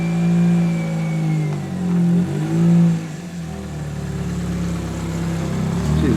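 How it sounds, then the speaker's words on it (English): Toyota Corolla engine revving with a worn exhaust in need of muffler work, rising and falling through a few throttle blips before settling into a rough, droning idle close by. "Needs muffler work too, can you tell?"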